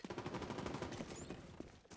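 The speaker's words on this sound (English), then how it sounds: "Someone's shooting from them over there." Gunfire in The Division 2 during a co-op firefight, a dense rapid rattle of shots, fairly faint and distant, holding steady before tapering off.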